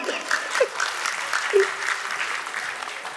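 Audience applause at the Swadeshi Mela fair in Surajgarh, a steady patter of clapping from a crowd that runs the whole stretch, with a couple of brief voiced sounds standing out near the start.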